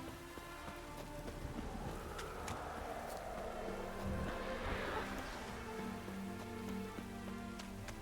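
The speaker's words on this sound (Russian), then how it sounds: "Гроза, мать ее." Steady thunderstorm rain in The Witcher 3 patters on surfaces with scattered drips and splashes, a continuous soft wash at moderate distance.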